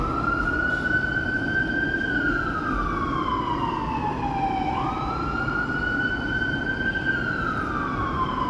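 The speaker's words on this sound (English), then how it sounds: "it seems to be a lot more sirens and stuff when it gets hot and muggy." An emergency vehicle siren wails, sweeping up and down in pitch over a steady low rumble of city traffic in Toronto on a hot evening, loud and continuous throughout.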